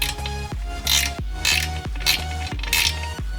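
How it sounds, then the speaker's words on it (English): An H3 Allen key ratchets out a spoiler bolt on a Subaru BRZ, with rhythmic clicking ratchet strokes in repeated bursts about every half second, close up and without talk. "use our H3 Allen key to remove the bolt"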